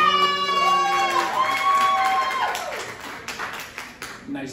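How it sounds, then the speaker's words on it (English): A comedy club audience applauds and cheers, a dense, loud wash of clapping that swells and then thins over a few seconds, with a sustained tonal line and some crowd voices mixed in. "By a round of applause,"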